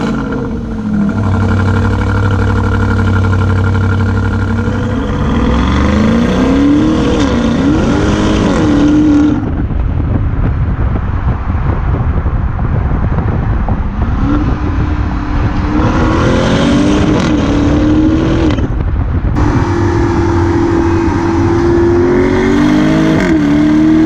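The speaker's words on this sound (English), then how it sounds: "where you can get some proper noise out of this exhaust" A 4.4-litre V8 exhaust on a 2019 BMW X5 xDrive50i in Sport mode, revving hard in three loud, close bursts, each rising and falling in pitch with a deep rumble between.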